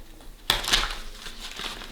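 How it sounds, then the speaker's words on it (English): Tarot cards are shuffled close up: a sudden crisp riffle bursts in after a quiet start, then softer papery rustling and flicks continue to the end, with no talking. "after I give you a little on-camera shuffle"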